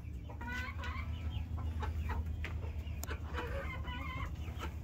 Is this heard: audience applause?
no